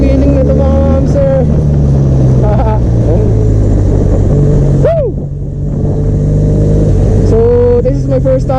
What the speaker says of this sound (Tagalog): this is my first time riding a 500cc motorcycle